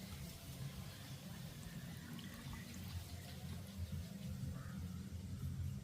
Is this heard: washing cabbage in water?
yes